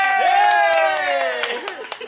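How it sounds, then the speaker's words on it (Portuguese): Rhythmic hand claps from a group at a birthday party in São Paulo's east side, sounding under a loud sustained sung voice that fades toward the end. "De palmas pro nosso homenageado,"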